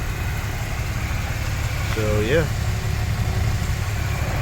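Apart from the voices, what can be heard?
truck engine idling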